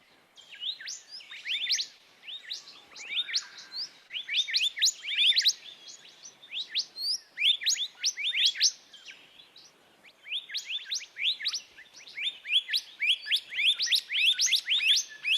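Two songbirds counter-sing, trading the same bright, rapid chirping phrase back and forth in close alternation, clear and fairly near with no voices.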